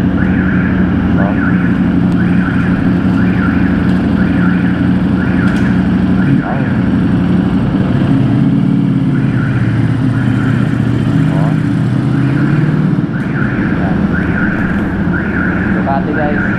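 A Ducati motorcycle engine runs steadily and loudly at close range for the whole stretch, with a constant mechanical drone and periodic higher-pitched tones layered on top.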